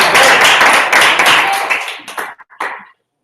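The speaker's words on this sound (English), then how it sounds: "Everyone give Derek a round of applause." A short burst of audience clapping at a Toastmasters club meeting during a magic act, loud and close at first, then thinning into scattered claps before stopping.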